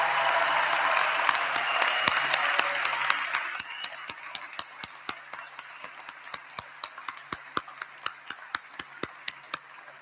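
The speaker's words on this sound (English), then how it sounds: "could I have one last round of applause for the class of" An audience at a 2022 high school graduation ceremony applauds, starting as dense, full applause that thins over a few seconds into scattered, sharp individual claps.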